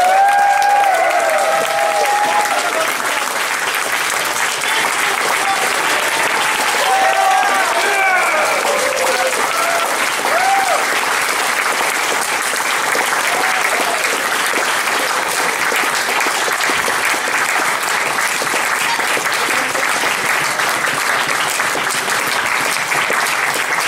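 Crowd at a Brony Fan Fair 2012 convention panel breaking into loud, continuous applause with some cheering and shouts early on, sustained for over twenty seconds.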